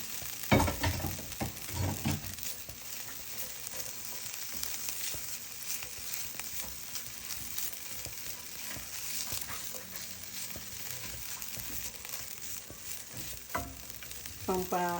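Ginger frying in a pan for a tilapia steak dish, a constant crackling sizzle with occasional stirring scrapes and clinks, close and fairly quiet.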